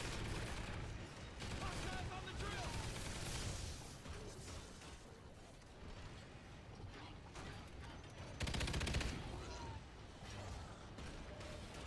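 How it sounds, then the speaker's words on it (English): Rapid light machine gun fire in a co-op shooter video game, a dense, sustained crackle of shots with a louder burst near the end, mixed with game effects and busy background noise. "Got to love an LMG with rapid fire."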